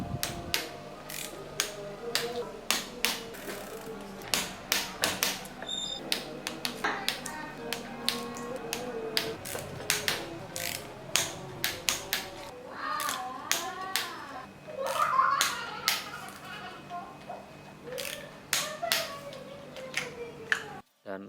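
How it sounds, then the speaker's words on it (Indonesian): Bolts on a gravel bike being tightened with a torque wrench during a home service, with close, steady ratcheting clicks and sharp metallic taps over a low background hum, some clusters quicker than others. "hampir semua baut-baut kita kencangkan menggunakan kunci torsi"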